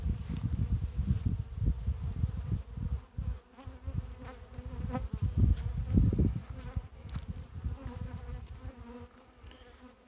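Honeybees buzz steadily around backyard hives with peppermints placed across the entrances, a dense, continuous low drone rising and falling as individual bees pass near, with no talking.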